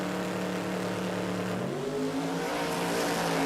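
A nitro drag racing car makes a pass at Warwick Dragway, its engine a loud, steady droning roar that shifts pitch partway through.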